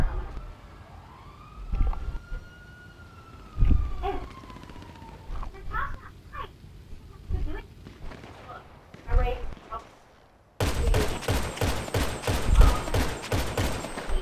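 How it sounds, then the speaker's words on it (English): Gunfire from a tank and other weapons in the video game GTA 5, with repeated sharp shots and a wailing siren, then a dense burst of rapid fire near the end, all under excited talking. "There's a tank shooting."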